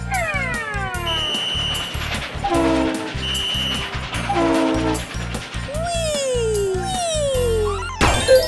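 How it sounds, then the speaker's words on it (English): Train station sounds: repeated horn and whistle blasts, some sliding down in pitch, sound over a rhythmic clickety-clack of rolling wagons, loud and close throughout. "Those are sounds from a train station."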